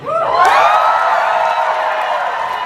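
A premiere talkback audience cheers, whoops and shouts loudly and continuously, a dense crowd roar that holds steady throughout.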